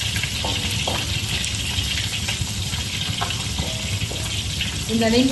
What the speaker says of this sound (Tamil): ஸோ இப்போ வந்து பொரிஞ்சு எடுத்துக்காருங்க